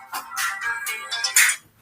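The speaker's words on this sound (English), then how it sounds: "My alarm is ringing." A phone alarm ringing, with a short run of bright, repeated electronic tones that hold at a steady level and stop near the end, heard with no talking.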